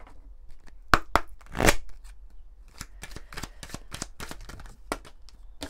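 Oracle cards being shuffled by hand, a close series of quick papery riffles and snaps in uneven bursts, with no talking.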